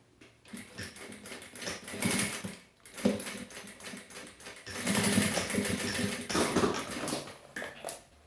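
A sewing machine stitching the closing seam of a fabric mask pouch with bias binding, its motor whirring in close, moderately loud bursts that start, pause briefly and run again, with no talking.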